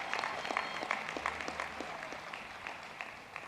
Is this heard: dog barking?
no